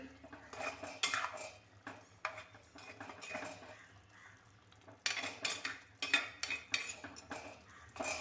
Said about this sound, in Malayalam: ഇപ്പോൾ നമുക്ക് ആ ഉപ്പൂടെ ഇട്ട് കൊടുക്കാം ചെറുതായിട്ട് ഒന്നുകൂടെ ഒന്ന് ഇളക്കി